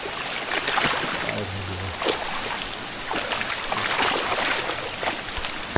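A stream runs fast and swollen after monsoon rain in a Konkan village, rushing and splashing steadily close by. A brief low voice murmurs partway through.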